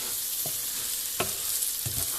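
Two cups of basmati rice stirred in a frying pan, a steady soft sizzle with a few scraping stirs from the utensil, close by, no talking.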